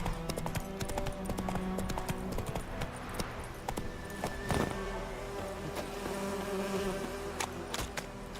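Roach, a horse in The Witcher 3, trots along with a steady clip-clop of hooves, accompanied by buzzing insect-like ambience and game sounds throughout.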